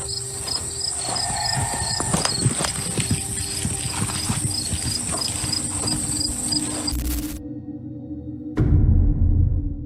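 Horses outdoors with hooves clip-clopping in a steady irregular patter over a constant chorus of crickets, moderately near, before the sound cuts out abruptly and a low rumble takes over.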